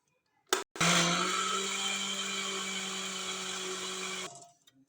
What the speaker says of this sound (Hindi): इसको 2-3 मिनट के लिए मैं ग्राइंड करूँगी।